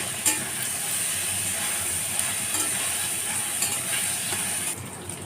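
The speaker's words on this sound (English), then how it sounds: "And let's stir and fry it a little." Colocasia with turmeric and salt is stirred and fried in a pan, producing a continuous bright sizzle with scraping strokes of a spoon, close up and steady, with no voices.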